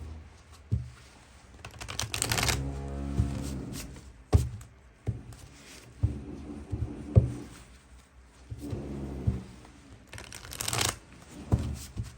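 A deck of tarot cards is shuffled in several bursts of riffling and flapping, close and fairly loud, with a few sharp taps of cards against a table between them.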